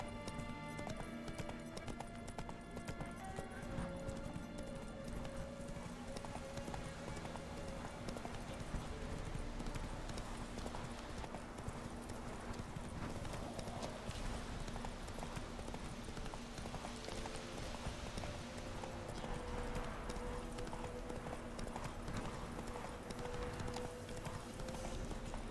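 Horse galloping in The Witcher 3 video game, rapid rhythmic hoofbeats clip-clopping continuously and fairly faint under game music and ambience, with a possible voice briefly in the mix.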